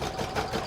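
An embroidery machine stitches a quilted patch bag in the hoop, a short burst of steady mechanical whirring close by with no talking.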